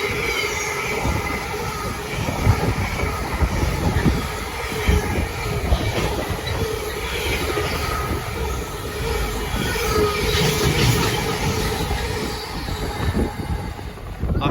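An Avanti West Coast Pendolino train passes close by at a station, a sustained loud roar of wheels on rails with rhythmic clatter and some squealing, lasting throughout.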